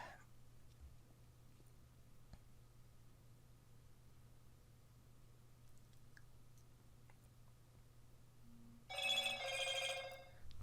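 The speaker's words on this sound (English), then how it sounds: "There's my phone buzzing." Mobile phone ringing and buzzing near the end, a short bright electronic ring and buzz burst lasting about two seconds over a faint steady hum in a quiet room.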